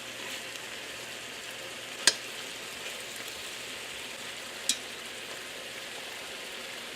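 Steak seasoned with Chicago steak seasoning frying in a pan, a steady soft sizzle running throughout, with two brief clinks standing out above it and no voices.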